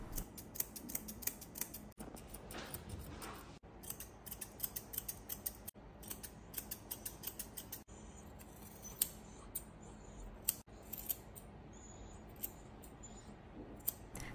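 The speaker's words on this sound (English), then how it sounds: "The ears are lightly trimmed at the bottom as they need to grow in a lot more to be able to shape them properly." Grooming scissors trimming a miniature poodle puppy's ears and face, a rapid run of crisp, close snips in irregular bursts with short pauses, quiet and alone.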